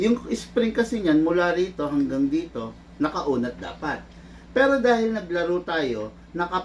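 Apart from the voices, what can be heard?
No distinct noise like a dog, phone or traffic.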